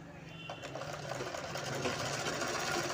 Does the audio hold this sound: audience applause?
no